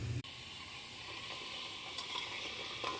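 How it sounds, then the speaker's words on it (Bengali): Pitha rice cakes fry in a pan for Makar Sankranti, with a steady, even sizzle and one brief clack near the start. No one speaks. "এখন ভাজা পিঠেটা হচ্ছে আর বাদ বাকি করব"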